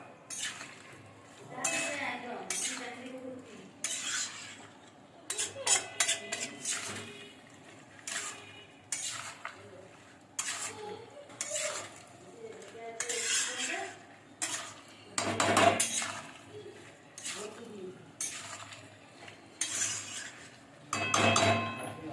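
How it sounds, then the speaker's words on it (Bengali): A spoon stirs jackfruit and pointed gourd curry with a little added water in a pot over a high flame, making repeated clanks and scrapes against the metal in irregular bursts separated by short quiet gaps. "এরপর ভালো করে আমি নাড়বো।"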